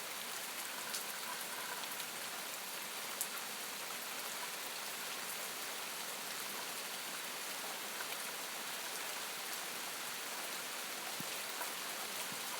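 Steady rain falls outside a second-story house window, a dense, even hiss of drops holding at a constant moderate level with no voices throughout.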